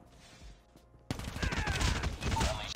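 Cordite rifle fire in COD Mobile, a rapid automatic burst that starts abruptly after a quiet moment and rattles on loud and close to the end.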